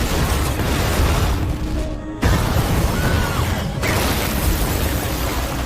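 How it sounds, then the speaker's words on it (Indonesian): A bomb planted in a cafe goes off in a movie scene, a loud sustained broadband roar with a brief gap partway through, continuing as dense rumbling debris noise. "Ia pun meledakkan bom yang sudah dipasang di kafe"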